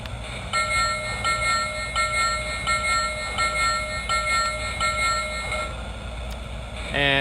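The bell of a Lionel Santa Fe LionChief Plus Hudson model locomotive rings in a steady, even rhythm, repeated clangs close by for several seconds before stopping.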